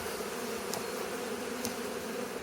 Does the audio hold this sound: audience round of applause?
no